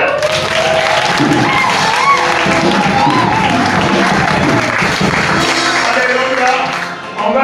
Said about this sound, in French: et puis Bibi, on acclame le Seigneur